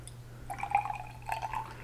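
White vinegar being poured into hydrogen peroxide for slide film processing, a faint, brief liquid trickle in two short spurts over a low steady hum.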